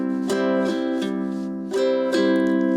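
A ukulele plays a bass note on the top string, then quick down and up strums, repeated in an even rhythm, close and clear with no voice.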